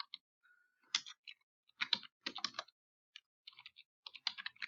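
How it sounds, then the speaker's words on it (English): Quiet, close typing on a computer keyboard, a series of irregular clicking keystrokes in short bursts with brief pauses between them, and no voices. "when we would type in t-test"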